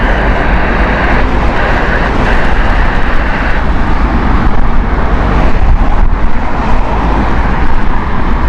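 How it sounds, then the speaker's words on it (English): A British Airways Boeing 787-9 at Heathrow produces a loud, continuous jet roar with broad rushing noise and wind buffeting, steady throughout and close by. "787-9. This is Speedbird flight 156."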